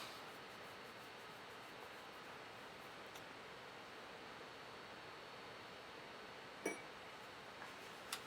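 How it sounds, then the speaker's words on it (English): An air conditioner runs indoors as a faint, steady, even whooshing hum throughout, with a couple of small ticks near the end. "I put the air conditioner on, so you might hear the humming in the background"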